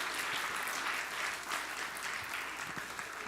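A congregation claps for a child's solo singing award during a Sunday church service, giving a continuous burst of moderate, fairly distant applause.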